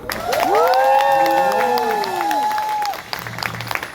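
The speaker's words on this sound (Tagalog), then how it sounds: "Lahat ng mga taga Sharjah, pumalakpak na." A church congregation at an El Shaddai chapter's 31st anniversary celebration claps and cheers loudly, with rising whoops and shouts over the applause before it quickly dies down.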